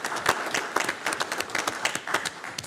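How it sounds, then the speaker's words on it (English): A small group at a city council meeting claps in a loose, uneven patter of distinct hand claps that lasts a few seconds, moderately loud and close. "Clap for democracy."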